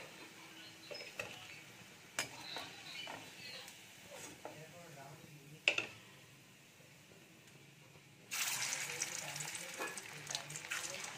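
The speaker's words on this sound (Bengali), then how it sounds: "বাকি কোপ্তাগুলো সব একইভাবেই ভেজে নেব।" Banana-flower koftas frying in oil over a low to medium gas flame, soft sizzling with scattered clicks and knocks, then a much louder burst of sizzle as more koftas go into the oil.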